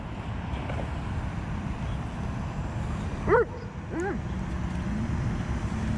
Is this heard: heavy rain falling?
no